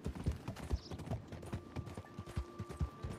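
Horse hooves clip-clop in the Red Dead Redemption 2 video game, a quick, irregular run of close hoof strikes at moderate volume with no voices over them.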